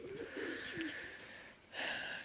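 Pigeons coo softly in a few low, rounded calls, followed by a brief rush of wings as they fly. The sounds are fairly faint and a little distant outdoors.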